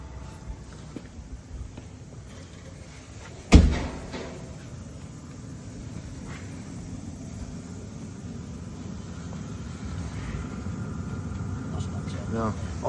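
A single sharp thud of a Citroen Ami's door slamming shut nearby, abrupt and loud, followed by a steady low engine-like hum and faint movement inside the small car.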